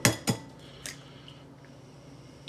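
Whisk strikes in a bowl of beaten eggs: two loud clanks at the start, then a lighter clink, fading into a quiet room with no talk.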